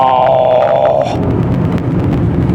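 Audi Q5 quattro downshifting while cornering on an uphill road: a brief rising engine note gives way to a loud, steady wash of road and wind noise with a few pops.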